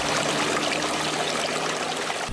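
Water trickles steadily along a stream in a backyard water garden on a Topeka pond tour, a continuous close, fairly loud wash with no voices.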